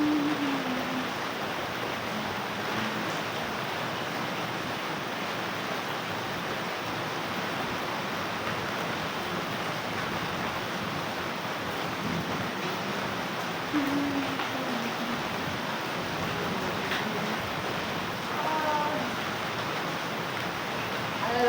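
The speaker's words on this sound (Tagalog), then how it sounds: "Ang lakas ng patak mga kakwela, kaya basang-basado mo." Heavy rain pours down in a dense, continuous hiss that stays steady throughout, with faint voices occasionally surfacing beneath the downpour.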